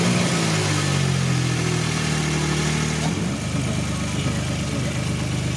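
A repaired Suzuki Jimny engine runs close by, rumbling steadily at first and then shifting pitch partway through as the revs change, continuing as a rough, even drone.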